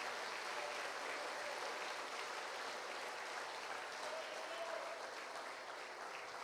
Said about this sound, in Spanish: Démosle fuerte esa ofrenda de palmas a nuestro Dios